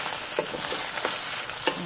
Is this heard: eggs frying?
yes